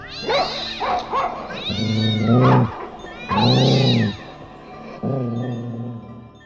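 A voice imitates a cat and dog fighting, with drawn-out yowls, growls and snarls in loud bursts, close and alone.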